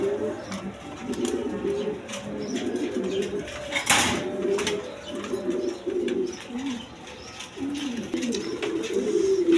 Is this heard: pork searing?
no